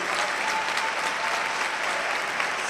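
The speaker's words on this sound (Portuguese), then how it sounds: "Eu queria que você desse mais um forte aplauso ao Senhor" A congregation at an evangelical church celebration in Brazil gives loud, dense, steady applause, many hands clapping together without pause.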